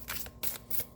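Matte-finish tarot cards are shuffled by hand in quick riffling bursts, about four soft swishes in a second, close and quiet with no voice.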